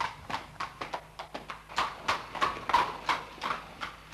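Cavalry horses of an eighteenth-century light horse regiment clip-clop on a hard road in Inverness, a steady run of close, fairly loud hoofbeats with no talk over them.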